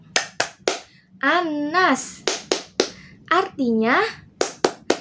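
Sharp hand claps land in a steady rhythm, alternating with a woman's sing-song Indonesian speech teaching children a clapping chant, between the bursts of clapping.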